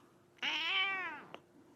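A single close meow from a cat named Snowball, a drawn-out, rising then falling cry lasting about a second, followed by a faint click in a quiet room.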